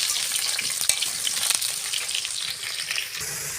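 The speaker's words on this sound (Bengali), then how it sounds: "আলুটা ভালো করে লাল লাল করে ভেজে নেবো" Potatoes frying in hot oil in a kadai make a steady, close sizzle with bright crackle and a few sharper pops, with no talk.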